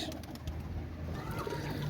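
A pair of Teddy pigeons, a male and a female, give soft low coos close by against a faint, even background hum.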